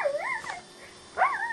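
Dogs in a fight let out two close, high, wavering yelping whines separated by a short pause, with no voices heard.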